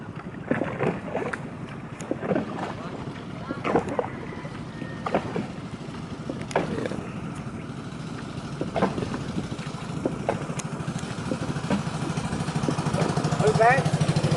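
Fishing boats out at sea off Bicol, heard from aboard a boat: a steady low engine drone with wind buffeting the microphone and intermittent knocks and thumps, growing slightly louder toward the end.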